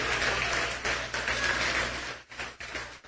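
A church congregation applauds during a service, a thick, steady wash of clapping that thins and breaks into a few scattered claps near the end.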